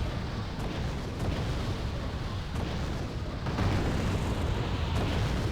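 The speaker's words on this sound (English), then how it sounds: "Let's put mortar shells on top of them." Mortar shells explode in the war strategy game Wargame: AirLand Battle, heard as a continuous, heavy rumbling roar of blasts that swells slightly toward the end, loud and dense.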